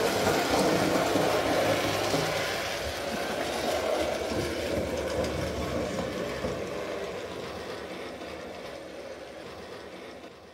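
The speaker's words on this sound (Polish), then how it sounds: "I zwróćcie uwagę, jak lokomotywa długo hamuje." A Trix BR17 DRG model steam locomotive rumbles and clatters on its track, the mechanical noise steady and then slowly fading as it brakes to a gradual stop.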